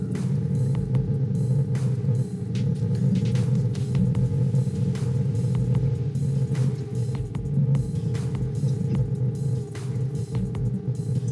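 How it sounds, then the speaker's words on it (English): A steady engine drone fills a Tata Harrier SUV's cabin, a low continuous rumble with faint road noise and no talking. "feel the engine getting louder, and it's quite evident inside the cabin."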